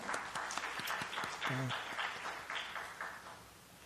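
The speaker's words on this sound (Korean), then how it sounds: "우리 뜨겁게 한번 격려의 박수 부탁드리겠습니다." A congregation at a Korean church youth worship service claps in warm encouragement, a lively patter of many hands with a few distinct sharp claps standing out, and a brief voice in the middle.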